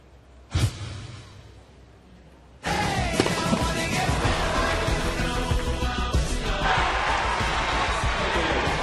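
Crowd at a US Open qualifying tennis match on Court 17 erupts into loud, sustained cheering and shouting after a quiet opening with a brief sharp burst, the roar staying dense and close for the rest of the clip.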